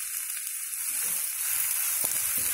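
Coriander rice ingredients frying in a pan, giving a steady, bright hiss of sizzling oil close by, with faint stirring knocks in the background.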